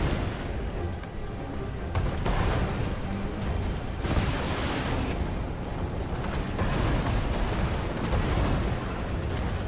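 Artillery fire in the video game Iron Conflict: a dense, continuous barrage of booming blasts and rumbling explosions, loud and sustained throughout with no talk.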